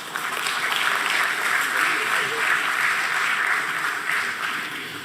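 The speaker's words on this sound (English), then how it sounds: "Let's welcome him on stage with a round of applause." A steady round of applause from an audience welcoming someone on stage at a BSE listing ceremony, dense and continuous throughout at moderate loudness, tapering slightly at the end.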